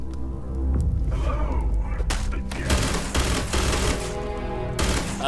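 Sustained gunfire from the sci-fi video game Starfield, a dense run of shots over a low rumbling hum, loud and continuous for several seconds with no talking.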